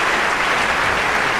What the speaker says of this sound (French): des applaudissements qui ressemblent plus à une chute d'eau